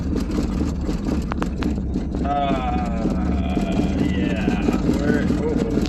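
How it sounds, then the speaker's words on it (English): An old Mercedes with a worn drive shaft carrier bearing rolls along, its steady engine and drivetrain drone mixed with wind rush and a rising whine, while a voice speaks briefly near the start. "I think we have a little bit of a drive shaft carrier bearing issue here."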